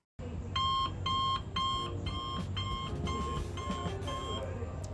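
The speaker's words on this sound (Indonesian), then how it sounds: "jika suara terlalu keras, status berubah menjadi bising, lalu alarm dan getaran otomatis aktif" Alarm from a sound-level monitoring computer program: a rapid series of repeated electronic beep bursts in a regular pulsing rhythm, loud and close, over a low background rumble.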